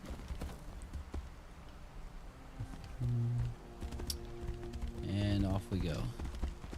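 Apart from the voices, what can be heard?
horse hooves clip-clopping in Tainted Grail video game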